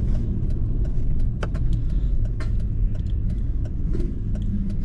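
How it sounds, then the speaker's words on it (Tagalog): Morning road traffic with car engines idling and creeping along in a steady, close rumble, with occasional clicks and rattles. "Traffic talaga."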